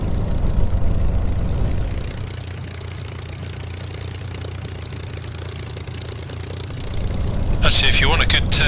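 Spitfire piston engine idling while the fighter taxis on the ground in a flight simulator game, a steady low rumble that runs continuously and swells briefly near the end.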